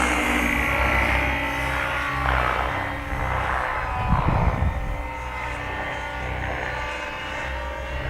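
RC helicopter flying pirouetting circles, giving a steady droning rotor and engine whine that swells and fades slightly as it turns, continuous and fairly loud with no voices.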